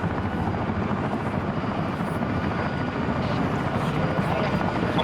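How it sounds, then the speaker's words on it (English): Helicopter arriving for extraction in a military video game, a continuous, loud rotor rumble and roar that persists throughout, with voices talking over it. "Get ready for exfil. Helo's here."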